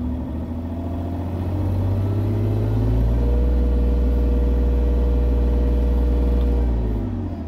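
A John Deere 35G compact excavator's diesel engine rises from a low idle to a higher, steady hum as the throttle is turned up, then holds a loud, continuous drone at close range.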